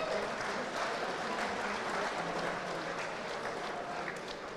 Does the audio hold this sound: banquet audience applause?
yes